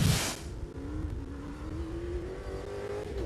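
A Dakar-specification Toyota Hilux rally car roars across a beach, a burst of loud rushing noise at first, then a steady engine drone with a slowly rising tone as it pulls away.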